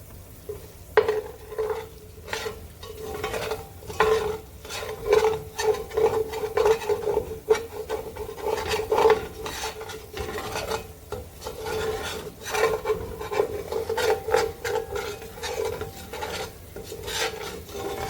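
Beef tips dusted with flour browning in a pan for beef tips and noodles, with steady sizzling and continuous scraping stirring, close up and uninterrupted, no talk.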